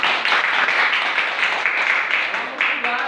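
Students in an Indonesian classroom clap together in steady, continuous applause for about three seconds, close and fairly loud.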